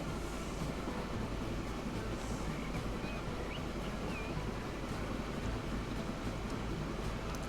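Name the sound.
train running in the video game Transport Fever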